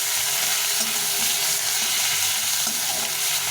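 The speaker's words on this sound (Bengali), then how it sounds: "এটা দিয়ে দিই দিয়ে টমেটোটাকে ভালো করে ভেজে নিতে হবে" Chopped small tomato with spices fries in a pan, giving a loud, continuous sizzle with faint stirring scrapes, close up and steady throughout, with no talking.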